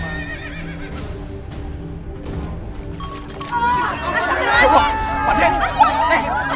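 A horse whinnies repeatedly in a drama scene, shrill neighs rising over a background of crowd chatter and voices, growing louder and busier toward the end.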